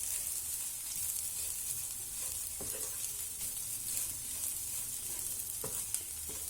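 Carrots and beans fry with dry coconut powder in a pan, a steady close sizzle with occasional soft stirring scrapes, and no talking.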